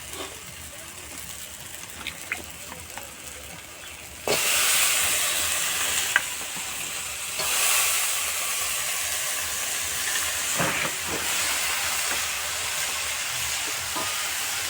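Bottle gourd stems and potatoes hit hot oil in a pan and burst into a loud, steady sizzle a few seconds in. Occasional stirring clatter follows, after a quieter stretch at the start.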